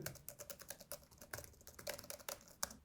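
Quick, light keystrokes on a Huawei MatePad Pro tablet keyboard, a soft steady clatter with a few louder taps, close by and without voices.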